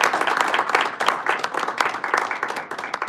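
Audience at a Toastmasters club meeting in Dubai applauds, a dense, steady patter of many hands clapping together for about three seconds, with little talk over it.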